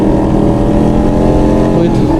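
A Suzuki Hayabusa motorcycle fitted with a Two Brothers exhaust system rumbles steadily at close range, a loud continuous engine drone with no clear revving, while someone talks over it.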